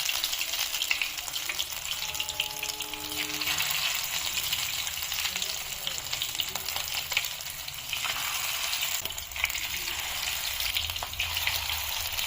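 Fish roe fritters, an Assamese pakora, frying in hot oil in a steady, close, dense sizzle with faint bubbling throughout, with no voices.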